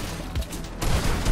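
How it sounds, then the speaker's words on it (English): Gunfire in an online shooter game tournament: a muffled, distant burst of rapid shots rolling together as a dull, continuous rumble with no talk. "I hear gunshots."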